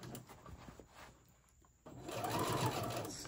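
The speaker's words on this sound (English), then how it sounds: "gently sew all the way around. We're sewing these two together." A home sewing machine stitches two fabric basket pieces together, whirring in short runs, pausing briefly, then running faster and louder in a sustained mechanical buzz.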